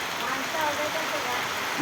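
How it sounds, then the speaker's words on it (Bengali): Steady rain falls onto a house courtyard after days of continuous downpour, a dense even hiss of drops close by with no pauses across the short stretch. "বাড়ির উঠোনে বৃষ্টি পড়ছে"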